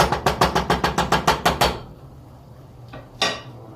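A metal cooking pot over a strong flame for a gnocchi sauce gives a quick run of about a dozen sharp, even clinks, then near silence, then one close clank as the lid is set on.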